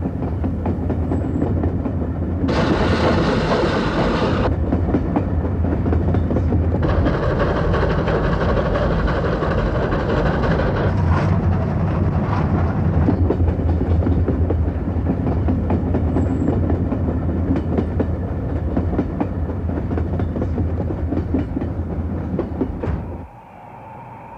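Steam locomotive 3801 hauls a train through outback desert country, a steady loud rumble and rolling clatter of wagons running throughout, with broadband bursts of exhaust and wheel noise before easing off at the very end.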